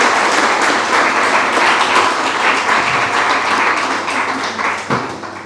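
A live audience applauds at a Kannada comedy event, dense sustained clapping from many hands filling the whole stretch, loud and close, slowly easing off toward the end.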